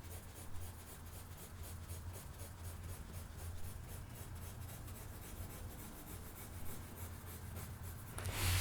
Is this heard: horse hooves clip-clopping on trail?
no